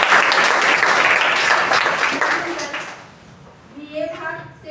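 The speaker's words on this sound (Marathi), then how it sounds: "त्यासाठी अजून एकदा टाळ्या होत्या." An audience at a college welcome function for newly enrolled students claps loudly in a dense burst of applause that fades out after about three seconds, followed by quiet and a voice starting to speak.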